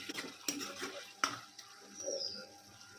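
Taro leaves (kochu shak) frying in a pan with potato, salt and turmeric: faint sizzling under sharp clinks and scrapes of a utensil stirring against the pan, quiet and close.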